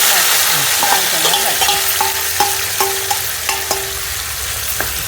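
Mustard seeds crackling in hot oil while cooking tomato gojju, with steady sizzling and scattered sharp pops close by, along with the scrape of stirring.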